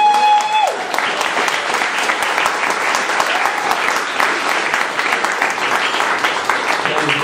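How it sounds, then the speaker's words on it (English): An audience at a memorial gathering claps and cheers in a sustained, dense round of applause that carries steadily from start to finish after a brief tone. "how about a round of applause for Bobby"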